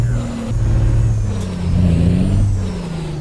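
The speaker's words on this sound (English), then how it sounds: "If you want to hear more of the truck, let me know." Truck engine in the video game American Truck Simulator, a close, steady mid-pitched drone with shifting revs and a short hiss like an air brake partway through.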